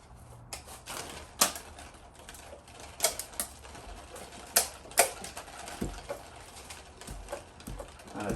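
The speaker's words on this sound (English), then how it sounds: "the cracking, as you hear, is just RTV" Old RTV sealant cracking and snapping as the cylinder head is lifted off a Mercedes M156 AMG V8: sharp, close clicks and pops at irregular intervals over a faint background hiss, with no talking.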